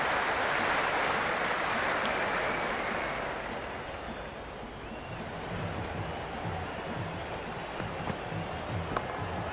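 Large stadium crowd in the Cricket 26 video game during an India v USA T20 World Cup match, a broad steady roar of cheering and noise swelling at first, then easing into a sustained wash with scattered claps and whistles.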